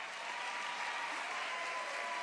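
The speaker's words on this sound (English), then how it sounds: "let's clap for the auditor for a minute" Steady crowd applause for the state auditor at a Bernie Sanders and Keith Ellison political rally in Minnesota, continuous and moderately distant throughout.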